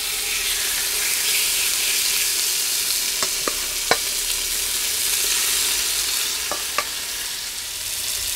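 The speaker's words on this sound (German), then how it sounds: "wenn das Öl dann Temperatur hat, braten wir unser Fleisch portionsweise an." Venison goulash meat sears in hot oil in a Dutch oven, a steady loud sizzle with a few sharp clicks and taps of a utensil scattered through, close and without any talking.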